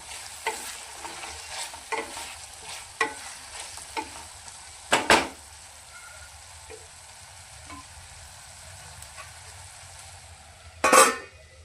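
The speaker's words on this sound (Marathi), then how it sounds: "तर चला मग ह्याला 1-2 वेळेस आपण मिक्स करून घेऊया" Rajma masala is stirred in a pan, with a spoon scraping and tapping in occasional strokes over a faint, steady sizzle, and a couple of louder clanks.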